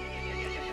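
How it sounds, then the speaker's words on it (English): A brief, loud horse whinny in the video game Resident Evil Village, with a shrill, wavering tone, heard alone and close. "The horse grew angry and summoned the other monsters."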